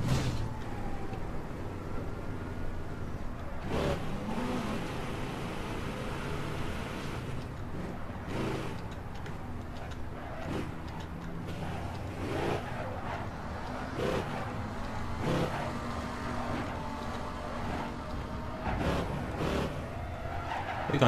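A car driving in the video game APB Reloaded, engine droning steadily at moderate volume with repeated tire skids and squeals as it turns, plus occasional sharper impact-like bursts.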